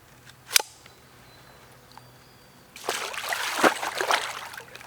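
Kayak paddle strokes dip into open water, a quiet lone splash early on, then a sustained run of louder splashing and churning strokes close by.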